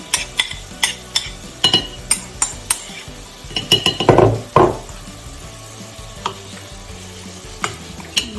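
Paste is stirred into chicken curry in a pan, close up, with a steady beat of a spoon scraping and clinking against the pan over a soft sizzle of frying.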